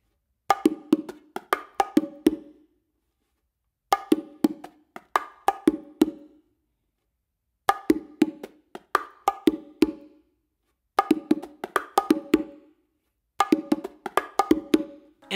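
A syncopated funk groove is played on bongo drums in five short phrases of crisp slaps and open tones, each phrase separated by a brief silence, heard up close with no voices.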